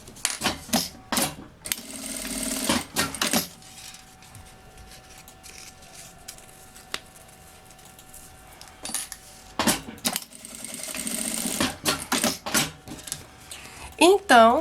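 A sewing machine stitches a strap for a child's backpack in short bursts of rapid mechanical clatter, separated by quiet pauses, with a person talking between runs.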